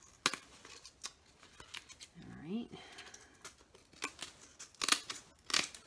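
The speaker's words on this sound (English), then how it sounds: "So I'm going to actually just cut that back." Scissors snip through the thick, crisp end paper at the back of a handmade mini lap book, trimming near the spine in a series of sharp, close cuts, with a brief spoken word partway through.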